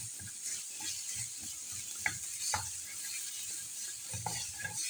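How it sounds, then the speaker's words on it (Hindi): Coarsely pounded chutney ingredients dry roasting together in a pan, a soft continuous sizzle with scattered scraping stirs and light clinks, quiet and steady throughout. "अभी इन सब को ना रोस्ट कर लेते हैं इकट्ठे से।"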